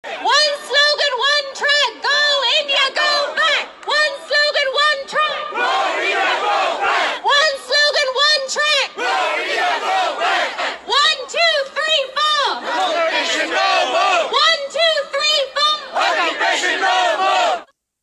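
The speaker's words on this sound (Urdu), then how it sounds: "مظاہرین آزادی کے حق میں نعرے لگا رہے تھے" A large crowd of protesters in Manchester chants freedom slogans in loud, rhythmic, shouted bursts, the massed voices rising and falling in repeated phrases with only short pauses between them.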